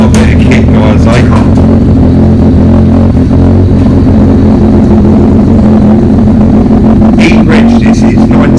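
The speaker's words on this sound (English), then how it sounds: "That engine sounds beautiful" A 1988 Ford Sierra RS Cosworth road-legal rally car engine with a straight-cut gearbox roars and revs continuously up close, with a rough rumbling drone and brief higher bursts, and a voice faintly underneath.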